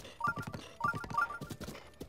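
Horse hooves clip-clop in The Legend of Zelda: Breath of the Wild as the horse crosses mountain terrain, giving steady, close, rhythmic thuds in quick groups with short pauses between them.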